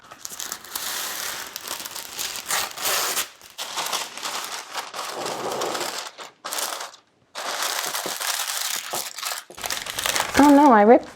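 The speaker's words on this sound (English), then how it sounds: "So I'm gonna line this bad boy with parchment paper for easy cleanup." Parchment paper crinkles and crackles loudly and close up while being pressed into an 8x8 baking pan, in repeated bursts separated by short pauses, ending with a brief voice.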